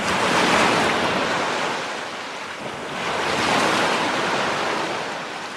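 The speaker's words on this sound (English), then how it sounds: "Some of these sounds are relaxing and pleasing to our ears, like the sound of the sea waves." Sea waves surge in a continuous broadband roar that swells, eases and swells again. Wind rumbles underneath, and no voices are present.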